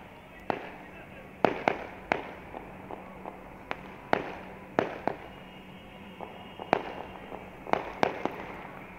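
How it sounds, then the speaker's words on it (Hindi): Fireworks and celebratory aerial gunfire on New Year's night heard from a rooftop, scattered sharp cracks and pops at varying distances over a low background hum, with someone talking throughout. "डिफरेंट प्लेसेस से हवाई फायरिंग हो रही है और आतिशबाजी वगैरह हो रही है"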